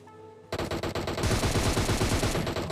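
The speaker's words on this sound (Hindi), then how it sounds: "तभी भाई साहब लेफ्ट से फायरिंग की आवाज़ आती है।" Rapid bursts of automatic gunfire in a battle royale video game erupt suddenly after a quiet moment, continuing as dense, loud, rhythmic shots.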